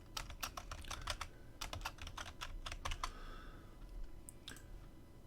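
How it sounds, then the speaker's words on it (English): Computer keyboard typing on a game project's tag field, a quick run of crisp key clicks in bursts with a short pause, then a few scattered taps, close and fairly quiet with no talking. "So I'll just type it back in again."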